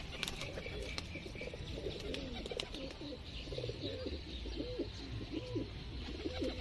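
Pigeons coo in a loft in R.S. Pura, Jammu, a series of soft, rolling coos repeating every second or so at moderate distance, with faint chirps and rustling in the background.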